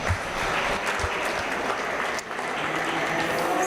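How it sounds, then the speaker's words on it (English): Audience at a stocker and feeder livestock show breaking into sustained applause, a dense, even clatter of many hands that stays loud and steady throughout with only a brief dip near the end. "let's go ahead and give them a round of applause"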